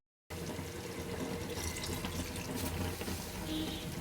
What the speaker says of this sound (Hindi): ये पानी मुझे कम लग रहा है इसलिए 1/2 कप में और डालेंगे